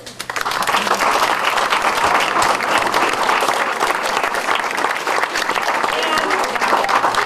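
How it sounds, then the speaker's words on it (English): A large crowd at a county board of education meeting applauding steadily and loudly, dense clapping sustained throughout with no pauses. "I think they deserve a big round of applause."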